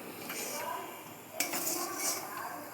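A utensil scrapes and clinks against a pan as rice flour dough is stirred over low heat, with soft continuous rubbing and one sharper knock partway through.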